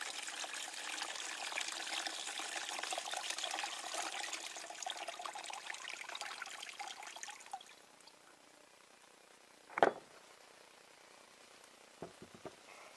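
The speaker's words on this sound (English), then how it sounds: "and pour the acid out" Acid is poured out of an old car battery, a continuous splashing, trickling stream for several seconds that stops abruptly, followed by a single sharp knock and a couple of faint clicks.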